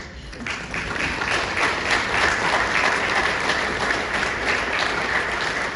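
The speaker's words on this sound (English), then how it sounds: "Just stand up or show your hands so we can applaud you." A gala audience applauds about thirty standing committee members, a loud, even roar of many hands clapping that holds steady throughout after a brief quieter start.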